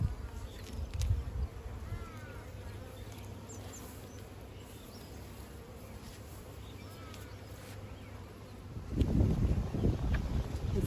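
Honeybees buzzing around an open top bar hive during an outdoor inspection, a dense steady hum with individual bees droning past nearby, swelling louder toward the end.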